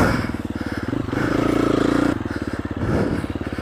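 A KTM 350 enduro motorcycle rides a trail close by, its engine buzzing with a pulsing, uneven rhythm and swelling as it revs hard in the middle before easing back.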